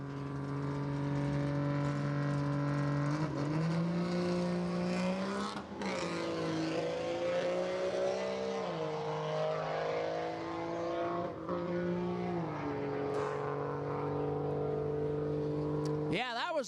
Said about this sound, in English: as he spools up the turbo